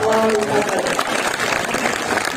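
Loud, dense applause from the crowd at a Hindi poetry recital in Nimbahera fills the hall continuously, a steady wash of many hands clapping, with a voice briefly audible at the start.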